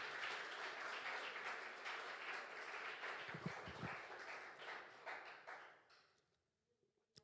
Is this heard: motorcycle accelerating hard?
no